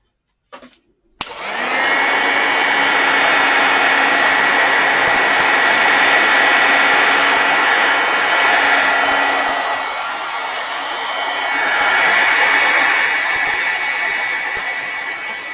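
Electric heat tool for card-making switched on with a click and blowing steadily, a loud, even whirring roar held close for about fourteen seconds with slight shifts in pitch.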